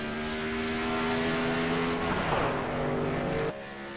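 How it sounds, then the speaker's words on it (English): A race truck does burnouts at Talladega after the Alabama Slammah 100, a loud sustained engine roar with steady tonal whine that shifts and drops abruptly near the end, with no voices. "The burnouts have begun."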